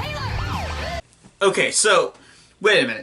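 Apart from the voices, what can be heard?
ambulance siren in a film scene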